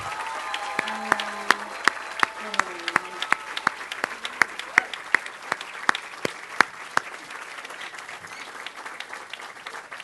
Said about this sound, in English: Can we just give everybody a round of applause?